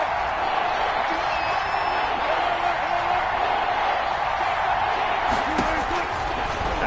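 Dense, steady roar of a football stadium crowd cheering during a game, loud and continuous with scattered shouts, under a commentator's voice.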